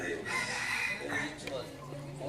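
A chicken crows faintly at a hilltop temple, Wat Pa Phu Pha Sung, a short, distant call with a voice murmuring alongside.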